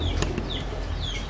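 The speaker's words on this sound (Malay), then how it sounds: "Jago dia." A rooster clucks a few soft, brief times in a dense, steady outdoor din with faint high chirps, the calls low and partly buried.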